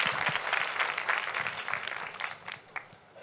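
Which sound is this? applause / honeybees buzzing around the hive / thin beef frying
applause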